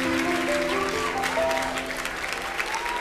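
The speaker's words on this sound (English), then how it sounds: "Give them a round of applause, everybody." A studio audience applauds the contestants on a Singapore television result show, a continuous, even burst of clapping with faint voices and some cheering mixed in.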